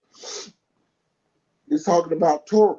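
One short, sharp sneeze bursts out near the microphone, followed after a pause by someone speaking.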